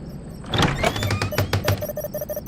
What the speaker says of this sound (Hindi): जैसे ही दिया ने दरवाजा खोला